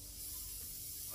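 A steady hiss of spray from an aerosol can, held for about a second at low volume.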